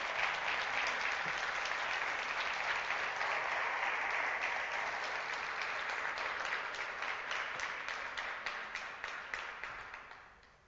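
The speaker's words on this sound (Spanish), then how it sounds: "aplaude al Señor" A church congregation applauds in sustained, dense clapping that holds steady for several seconds, then thins into scattered claps and fades out near the end.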